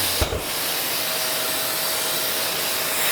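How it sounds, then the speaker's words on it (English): A vacuum cleaner runs in a woodworking workshop, sucking up dust from around a bedside cabinet project, a steady, loud, close whooshing hiss that starts with a short knock and carries on without a break. "So what you could do is just have a quick vacuum of the area."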